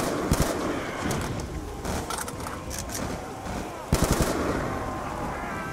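Gunfire in Call of Duty: Black Ops II Zombies, sharp repeated shots in short bursts, loudest near the start and again near the end, with ambient game noise between.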